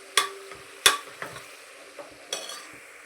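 Chicken sambar is stirred in a frying pan, with a ladle scraping and clinking against the metal in several irregular strokes over a soft steady sizzle.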